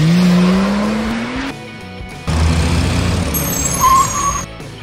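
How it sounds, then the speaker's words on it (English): A sports car revs with a climbing engine note, drops away for a moment, then returns as a loud, close rush of engine and road noise with a short higher whine near the end. "Sports car."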